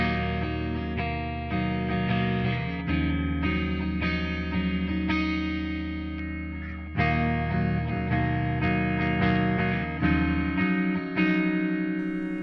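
A Solar electric guitar, S by Solar AB 4.6W, plays on the neck pickup as ringing sustained chords and arpeggios. The tone is lush with chorus and reverb, loud and steady, with no talking.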